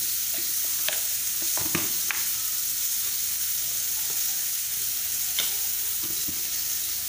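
Onion, red chilies and curry leaves fry in a pan with a steady, close sizzle, broken by several sharp clinks and scrapes of stirring. No one speaks.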